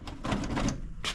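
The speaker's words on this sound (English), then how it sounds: "One drawer that won't close." A side tool box drawer on a mower repair shop's toolbox that won't close slides and rattles with a rough metallic grinding scrape, close and fairly loud, ending in a short bump.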